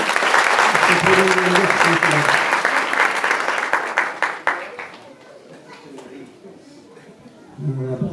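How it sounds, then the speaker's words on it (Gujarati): An audience claps loudly and continuously for several seconds at a religious gathering, the applause tapering off into scattered claps and murmuring before a voice starts speaking. "જોરદાર તાળીઓથી વધાવી આપો"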